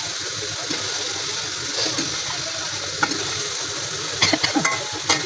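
Ridge gourd goes into ground masala frying in oil: an even sizzle with stirring scrapes, then a cluster of sharp clattering taps and spatters near the end.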